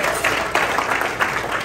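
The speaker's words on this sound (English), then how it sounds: "Let's get another round of applause for Isaiah." Another round of applause from an event audience for a speaker, a short burst of fairly loud, dense clapping with no talk over it.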